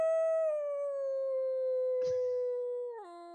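A person imitates a wolf howling during a tabletop role-playing game session: one long, steady, clear howl held close and loud, with a brief clatter in the middle and a drop in pitch near the end.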